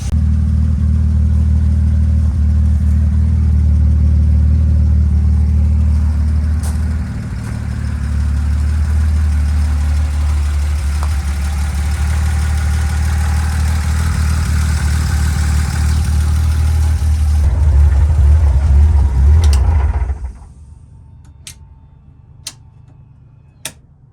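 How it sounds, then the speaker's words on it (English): A 1999 BMW 323is E36 engine idles with a low steady rumble that dips and roughens into sputtering, then recovers, before cutting off abruptly near the end, leaving a few faint ticks. "It seems to kind of like idle pretty nicely, then it gets a little sputtery, then it like picks the idle back up, gets sputtery."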